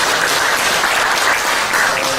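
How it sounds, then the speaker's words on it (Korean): Steady, dense applause from a forum audience at a border-region policy discussion, loud and continuous with no voices over it. "다시 한번 박수 감사해요."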